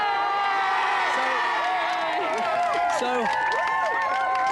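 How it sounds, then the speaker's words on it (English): A 1996 television studio audience claps and cheers loudly and continuously, with whoops and whistles rising over the dense applause and a voice speaking briefly. "No, big round of applause."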